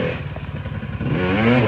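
A motorcycle engine at an extreme championship event burbles unevenly, then revs up, the pitch climbing into a steady rising whine, loud and close.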